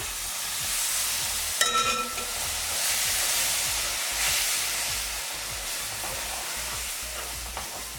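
Syrup is poured onto hot roasted semolina for orange halva, raising a loud, broad hissing sizzle that surges and holds steady, with a brief metallic clank early on and stirring throughout.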